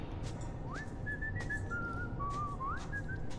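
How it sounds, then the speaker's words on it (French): A character in the stealth video game Thief whistles a slow, wavering tune of a few held and sliding notes over a low game ambience, clear but fairly quiet. "Putain, il siffle bien en plus."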